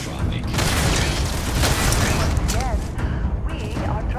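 Combat against robots and turrets in the video game Starfield, with dense bursts of gunfire, booms and mechanical clatter packed together, loud and chaotic, while a player's voice comes and goes underneath.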